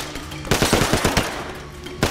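A rapid burst of about eight loud gunshots in Sleeping Dogs rattles off close together, followed by a pause and one more shot.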